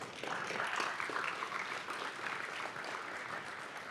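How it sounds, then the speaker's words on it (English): Conference audience applauding the organizers at a Bitcoin economics conference, a steady dense wash of clapping throughout, moderately loud and continuous with no voices over it. "You guys deserve a big round of applause."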